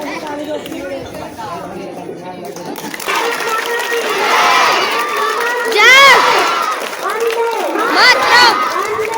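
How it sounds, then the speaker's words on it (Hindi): Village schoolchildren at an Independence Day flag hoisting shout and chant together in a lively crowd, voices swelling louder in the second half with overlapping cheers; clapping is not clearly distinct. "सभी बच्चों फूल नीचे गिरने के बाद एक साथ मिलकर तालियां बजानी है और भारत माता की जय का नारा लगाना है।"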